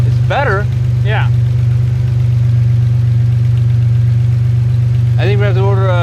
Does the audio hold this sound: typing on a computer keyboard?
no